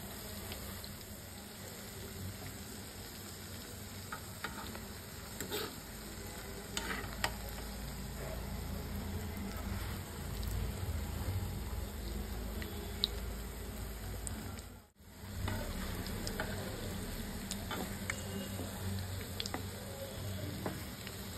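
A soybean kabiraji cutlet fries in a pan with a steady, close sizzle and occasional stirring clicks, broken by a brief dip in the noise partway through.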